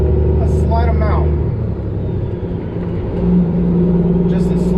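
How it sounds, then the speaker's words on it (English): A truck with a 10-speed transmission, its diesel engine rumbling loud and close, the pitch dropping and then briefly rising with a light throttle tap during a downshift while someone talks over it. "And when I downshift, I go over, once the RPMs have dropped, I downshift, I go over, I tap the fuel just a slight amount"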